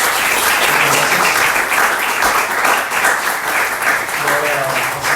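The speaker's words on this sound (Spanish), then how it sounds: "renovamos el aplauso para el Padre" An audience gives a lecture-hall round of applause for a priest after his talk, loud dense clapping that carries on steadily without a break.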